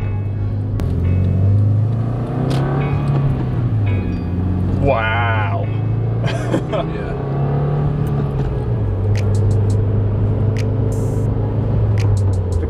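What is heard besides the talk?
Subaru WRX with Cobb Accessport Stage 1 tune accelerating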